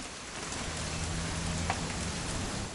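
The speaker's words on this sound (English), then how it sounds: "It's gonna rain the whole weekend, isn't it?" Steady rain falling in the video game What Remains of Edith Finch, a soft, even hiss of drops on surfaces that stays constant throughout, with no voices.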